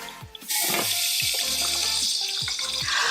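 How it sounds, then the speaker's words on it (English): Hot oil pops and sizzles loudly around pork slices frying in a wok, a steady hiss broken by repeated sharp crackles and spits, close up, with no talking. "the oil is popping and splattering everywhere"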